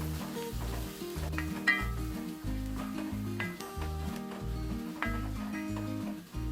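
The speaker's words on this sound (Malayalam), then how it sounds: "ഒന്ന് എണ്ണയിലൊന്ന് വഴറ്റണം." Turmeric and chili powders sauté in oil in a pan for a vegetable kurma, a close, steady sizzle with a bassy rhythmic pulse underneath and occasional brief clinks throughout.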